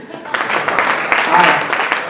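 A crowd claps at an alumni association launch event, a short, loud burst of applause with voices mixed in.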